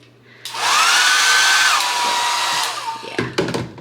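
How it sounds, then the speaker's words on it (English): A hair dryer in a resort suite switches on and blows with a loud, steady whooshing whir for about two seconds, then cuts off, followed by a few clicks and handling noises. "Hair dryer here, which is pretty powerful normally."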